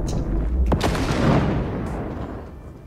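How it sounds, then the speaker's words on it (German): A sharp boom followed by a rumbling explosion in the video game Raft that swells and slowly fades out. "Da ist was explodiert."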